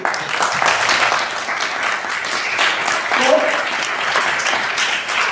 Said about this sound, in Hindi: जोरदार तालियां हो गई